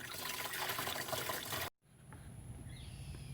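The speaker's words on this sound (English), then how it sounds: "Don't forget, you also got to fill up your reservoir." Antifreeze coolant pouring into the coolant reservoir of a 2010 Jeep JK: a close, steady liquid rush that breaks off abruptly, then a quieter trickle and gurgle.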